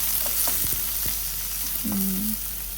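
Onions stir-fried in a pan for a gourd curry with coconut milk, giving a steady, close sizzle with a few soft utensil scrapes and taps, no voices.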